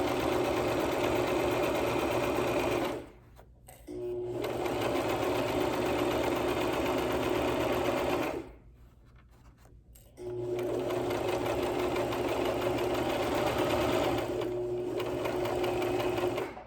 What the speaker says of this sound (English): Then we're going to continue sewing forward until we get to the end.